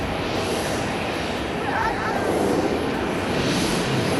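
A JAL airliner, flight JL73, takes off from the C runway at Haneda Airport with a broad, steady jet roar that holds loud and constant, heard from the airport.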